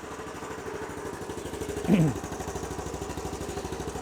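After a service, a motorcycle engine idles with a steady, fast low-pitched putter that runs evenly throughout at moderate level, with a brief clank of handling near the middle.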